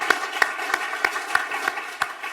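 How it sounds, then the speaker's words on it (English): Steady rhythmic clapping, about three claps per second, closes a debt-market conference as the audience applauds an organizer; it sounds like a small, fairly close group rather than a big roaring crowd. "So big round of applause for Axel"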